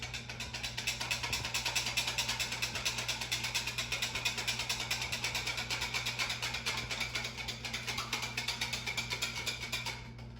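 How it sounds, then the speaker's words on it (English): Butter being whisked into pancake batter, a steady rapid clicking and scraping rhythm of the whisk against the bowl, continuous and close for about ten seconds with no talk. "now I am gonna mix it well with my whisk"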